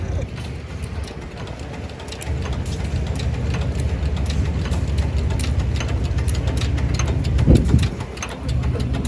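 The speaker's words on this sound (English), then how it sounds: "That's what I was talking about with the hit and miss engines" Old hit-and-miss engines run at a fall tractor show and heritage days, with a steady mechanical clatter of rapid ticking and knocking over a low engine rumble, plus one louder thump near the end.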